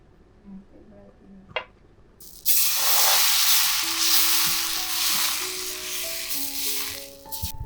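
A stuffed paratha, brushed with oil, sizzles and fries loudly in a hot pan, the steady crackle starting abruptly after a quiet moment and continuing to the end, with faint tones and clatter underneath.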